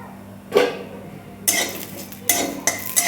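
A spatula scrapes and clinks against a kadai as dry coconut is roasted and stirred, in several distinct metallic strokes over a low background hum.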